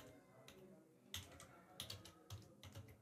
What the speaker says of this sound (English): So I am typing here a lead